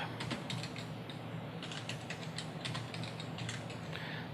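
A password is typed on a computer keyboard during an Edubuntu 14.04 installation, giving quick bursts of close, crisp key clicks separated by short pauses, with no talking.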